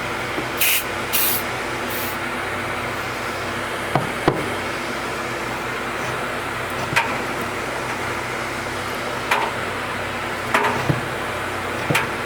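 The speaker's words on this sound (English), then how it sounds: "So I'm gonna squirt some carb cleaner in there, and hopefully we'll get that slide out." Carb cleaner sprayed in a few quick hissing bursts into the carburetor of a flood-damaged Polaris 325 ATV, followed by a steady background hum with scattered light clicks and knocks of nearby handling.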